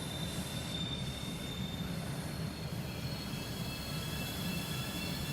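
A Talon 2 train passes in the Train Sim Classic simulator, a continuous loud rumble of rolling wheels with high squealing from the rails throughout.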